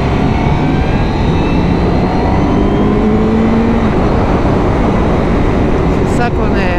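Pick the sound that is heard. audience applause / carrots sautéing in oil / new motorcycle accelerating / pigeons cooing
new motorcycle accelerating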